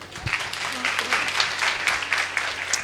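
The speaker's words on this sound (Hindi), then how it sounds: "एक बार ताली बजा दें।" An audience claps at a talk, a steady dense patter of many hands lasting a few seconds, fairly close, with voices murmuring underneath.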